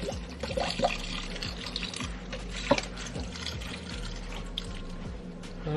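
Vegetable broth, about two cups, pours steadily into a pot with a soft, continuous liquid gurgle and splash, close and moderately quiet, with no talking.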